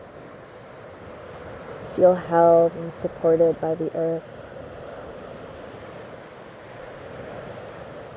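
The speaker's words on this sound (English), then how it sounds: "Listen to the waves crashing onto the shore." Ocean waves wash steadily onto a shore as a broad, continuous rushing surf, moderately loud throughout, with a calm voice speaking briefly over it in the middle.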